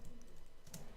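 Quick typing on a computer keyboard during a live coding session, a short run of faint, close clicks over a low background hum.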